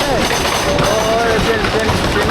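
A roller coaster train at Nicco Park in Kolkata starts its ride and climbs the lift hill, a loud continuous mechanical rumble and rattle with rising whine throughout, heard up close.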